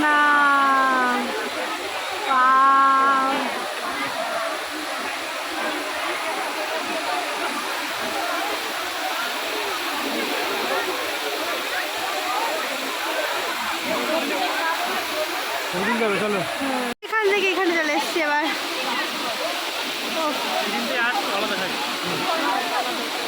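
A waterfall at Ayodhya Hills in Purulia pours as a steady, broadband rush of water that fills the whole stretch, with people talking over it and a brief sharp knock near the end.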